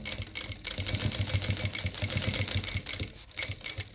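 A sewing machine stitching the seam of a handmade bag, fabric guided along a magnetic seam guide against the presser foot: a rapid, steady mechanical chatter, close and moderately quiet, with no speech.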